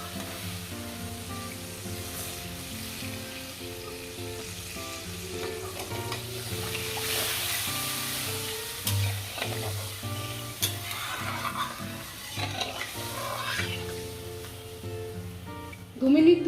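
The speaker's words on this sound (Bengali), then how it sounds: "দু মিনিট ধরে ঝোলটা ফুটছে" Hilsa mustard gravy with dry spices simmering and bubbling in a pan, a steady sizzling bubble continuing under background hum with a few clinks near the end.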